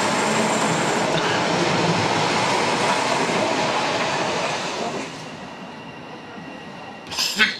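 A subway train rumbles steadily along underground with a dense, loud rolling roar that eases toward the end, followed by a brief squeal or clatter near the close.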